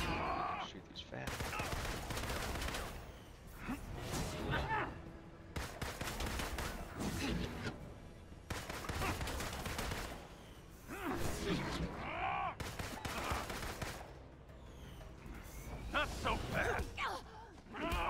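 Gunfire in the Marvel Avengers video game, dense bursts of rapid shots in long stretches broken by short pauses, mixed with in-game voices and effects.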